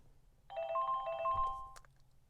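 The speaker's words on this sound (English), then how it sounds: "oh my god, my phone is ringing." A phone ringtone chimes for about a second and a half, a bright tonal melody playing moderately close over quiet room hum.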